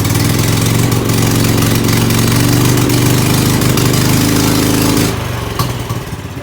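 A Canta LX microcar's small engine runs loud and steady in reverse gear, a close continuous drone with a throbbing mechanical rattle that drops to a lower, uneven idle for the last second or so.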